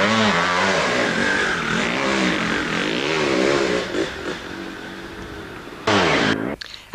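Enduro sidecar motorcycles at the 1991 Welsh 2-day Enduro rev and race past in sequence, engine pitch rising and falling loudly, a commentator talking over the roar, before a sharp burst near the end.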